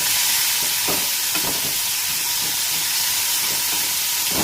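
Chopped tomatoes fry in a pan for a paneer curry, giving a steady, loud sizzle with soft stirring scrapes throughout.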